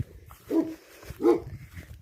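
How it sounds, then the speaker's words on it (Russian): A dog on a walk by a pond and woods gives two short barks about a second apart, moderately close, over faint outdoor background noise. "ой, собака здесь"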